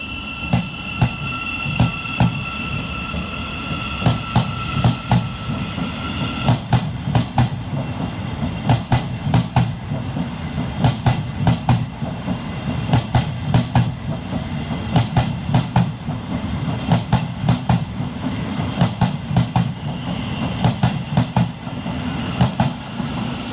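A Thameslink Class 700 electric train pulls out of Farringdon station, wheels clicking rhythmically over rail joints in steady repeated bursts beneath a low rumble, with a faint tonal whine early on.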